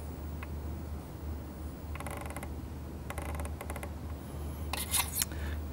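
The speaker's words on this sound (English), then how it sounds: "Finally, trimming off the tag ends." Small blade or scissor snips trim thread tag ends on the guide wrap of a fishing rod being built, heard as several short, crisp creaking cuts in bursts over a low steady hum, close and quiet, with no talking.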